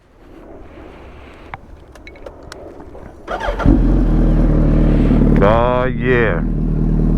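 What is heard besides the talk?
motorcycle engine cold start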